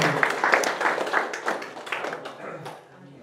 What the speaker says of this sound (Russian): Аплодисменты Богу.